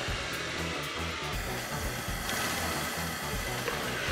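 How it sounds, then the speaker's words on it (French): A Cyclo Vac commercial wet/dry central vacuum system runs with a continuous, steady broadband whoosh and a low pulsing rumble, close and unbroken throughout with no talking. "Je veux vraiment aller vous montrer au maximum comment est-ce que l'aspirateur peut fonctionner"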